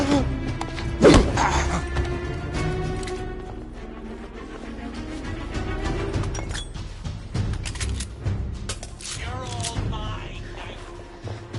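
In the video game The Order: 1886, a grenade goes off with one heavy, booming thud early on. Lower rumbling combat noise follows, with soldiers' shouts mixed in.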